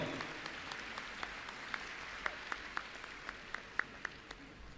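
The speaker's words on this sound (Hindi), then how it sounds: "एक बार जोरदार तालियां इन बच्चों के लिए उठें, पूरा हॉल।" A hall audience at an education awards ceremony applauds children, a soft, distant bed of clapping with a few sharper individual claps standing out near the microphone.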